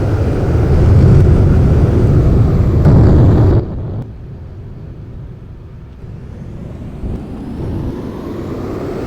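A jet engine drives a combat jet car in the Roblox game Plane Crazy, a loud steady roar that suddenly drops to a quieter, thinner hum midway and then continues evenly.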